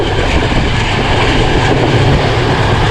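The Zakaria Express passenger train, running from Karachi to Multan near Bahawalpur, rolls steadily on rails with a continuous close rumble and rattle of wheels and cars, with no talk.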